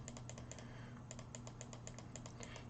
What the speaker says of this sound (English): Now we can use our arrow keys.